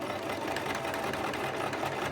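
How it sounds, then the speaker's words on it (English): A sewing machine stitches steadily while hemming a ruffled skirt, with a close, continuous mechanical whir and rapid needle chatter. The sound is unbroken for the whole short stretch, with no voices. "And we're through with our sewing."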